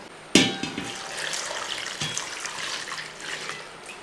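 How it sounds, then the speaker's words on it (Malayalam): Water splashes and runs into a bowl holding chopped eggplant in a home kitchen, beginning with a sharp splash and then a steady close trickle, with no talk. "ഇത് നമുക്ക് ഒരു പാത്രത്തിലോട്ട് മാറ്റിയതിന് ശേഷം കുറച്ച് വെള്ളം കൂടെ ഒഴിച്ചു കൊടുക്കണം."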